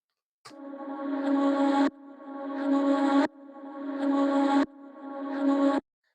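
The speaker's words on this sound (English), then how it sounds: "So this is part of the vocal, but it's reversed." Four reversed vocal swells repeat in a steady rhythm, each swelling upward in a rising rush and cutting off abruptly, with a sharp transient between them.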